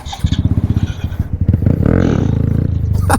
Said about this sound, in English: Oh, more rev bombs.